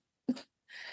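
A single short sneeze, a sharp burst followed by a breathy exhale, heard close and alone in an otherwise quiet room.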